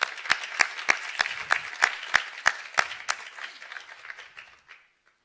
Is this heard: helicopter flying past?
no